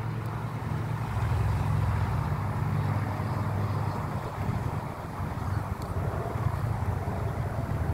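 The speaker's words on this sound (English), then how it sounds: "What an amazing takeoff." A Turkish Airlines Boeing 787-9 takes off at LAX, its loud, steady jet roar rumbling low and broad and holding strong throughout, with wind buffeting the microphone.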